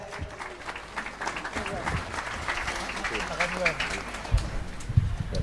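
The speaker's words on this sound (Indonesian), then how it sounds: "Tepuk tangan buat Satile." An audience claps after a religious talk, steady scattered applause of moderate loudness mixed with crowd voices and speech.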